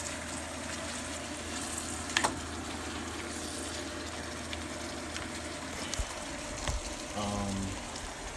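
Ground turkey with green pepper and onion sizzles steadily in a pan, a constant frying hiss with occasional scrapes and clinks as the meat is broken apart.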